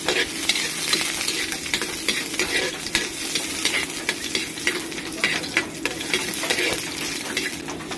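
Garlic and onion sizzle in a wok, a steady frying hiss broken by frequent scraping stirs of a utensil against the pan, close and moderately loud with no talking.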